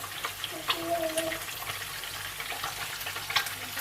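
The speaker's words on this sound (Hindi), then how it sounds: "अब मैं इसके अंदर ऐड करूंगी गार्लिक, जीरा ऐड कर देंगे" Garlic and cumin fry with lightly browned onions in a pan, a soft steady sizzle with faint stirring clicks, while someone talks over it.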